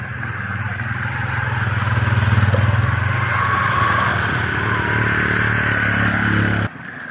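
A motorcycle rides through flood water on a rain-soaked road, its engine a loud, steady drone that holds for several seconds before cutting off abruptly near the end.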